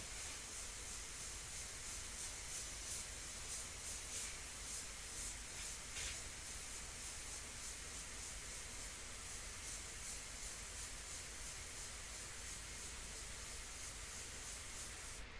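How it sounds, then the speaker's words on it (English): An airbrush spraying India ink onto paper for a portrait gives a faint continuous airy hiss at an even level throughout, with slight flutters and no voices. "Keep moving with the airbrush."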